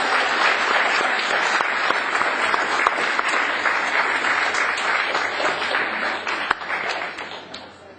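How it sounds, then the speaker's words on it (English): A conference audience applauds a student receiving his certificate, a dense and continuous round of clapping from many hands. It stays steady and fairly loud throughout, then eases slightly at the end. "And a good round of applause for Sam."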